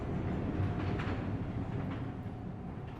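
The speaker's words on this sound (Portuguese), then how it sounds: "conseguimos ouvir apenas o som do metrô se movimentando sobre os trilhos" A subway train rolls along the rails with a steady low rumble and faint rattling, heard within a song during an otherwise silent passage, constant and moderately quiet with no voices.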